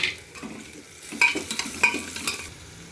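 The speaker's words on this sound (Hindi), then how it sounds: "मैं इसको भी इसके साथ भून लेती हूँ।" Ginger garlic paste being fried with browned onions for Dogri-style yellow moong dal, a soft sizzle under repeated scraping stirs of a spoon against the pan, close and fairly quiet.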